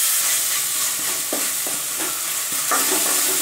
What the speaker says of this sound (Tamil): இப்போது இஞ்சி போட்டு வாசனை போயிடுச்சு